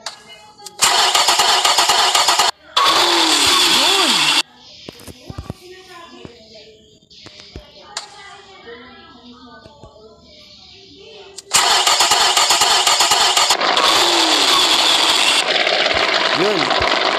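A Hyundai Accent CRDI diesel engine starts in the Roblox game A Long Road. Loud bursts of simulated cranking and rough engine roar come in two groups, with quieter sounds and a voice in between.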